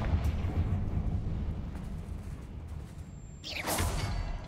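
Confringo spell blast in Hogwarts Legacy, a fiery magical explosion: a low rumbling roar runs throughout, then a bright whooshing burst erupts near the end, loud and close.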